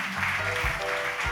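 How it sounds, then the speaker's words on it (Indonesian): A church congregation breaks into applause for a pastor during a Sunday service, a brief, dense burst of clapping with a low hum beneath it. "Bapak Ibu bisa tepuk tangan."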